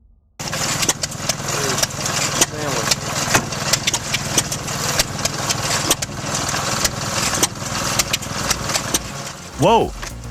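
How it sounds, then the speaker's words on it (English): An old-school log splitter's small engine runs steadily close by, a continuous mid-pitched putter like a lawn mower idling, with a brief rising whine near the end. "Check out this old-school log splitter."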